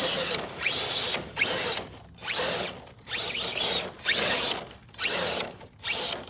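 RC crawler truck with a Holmes and Castle power system in crawl mode, the motor whirring in short bursts about every second with gaps between, a gritty, geared buzz close to the listener.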